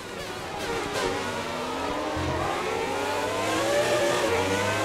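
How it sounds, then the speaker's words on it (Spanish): Classic Formula 1 cars, a Ferrari among them, race through Baku in a video game. A continuous high engine howl rises and shifts pitch as the cars accelerate, loud and steady throughout. "Tenemos un Ferrari aquí en paralelo."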